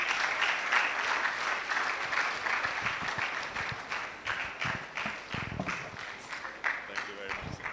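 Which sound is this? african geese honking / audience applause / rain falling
audience applause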